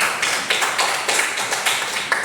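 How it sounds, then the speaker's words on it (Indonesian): A short burst of applause for a student named Nida in a classroom, claps overlapping in a dense, fairly loud patter with small swells, no talk over it. "Tepuk tangan untuk Nida."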